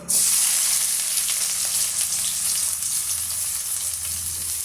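Steady, loud sizzling and crackling of finely chopped onions frying in hot oil for an egg gravy, starting abruptly and continuing throughout.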